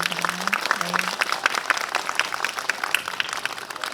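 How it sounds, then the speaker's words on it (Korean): An audience at a film talk event applauds an actress, a steady patter of many hands clapping throughout, moderately loud and mixed with a brief voice at the start. "신스텔라 전소희 배우께 큰 박수 부탁드립니다."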